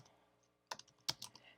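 A few quick keystrokes on a computer keyboard while typing a search, crisp taps clustered in two short bursts against a quiet background.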